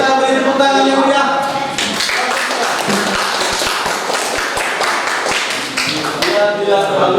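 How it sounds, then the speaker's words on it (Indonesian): A classroom group bursts into lively applause, dense hand clapping sustained for several seconds with some sharp individual claps standing out, voices mixed in at the start and end. "Untuk lebih semangat kita beri tepuk tangan yang meriah."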